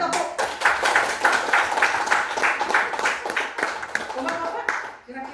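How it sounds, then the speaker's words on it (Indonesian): Pupils and teachers in an elementary school classroom clap in a rhythmic, patterned beat of distinct claps that fades near the end, with voices mixed in under the clapping. "Luar biasa tepuk."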